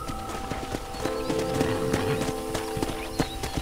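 Horse hooves clip-clop at a walking pace in the video game Red Dead Redemption on a ranch, steady and fairly close, mixed with game ambience and background music.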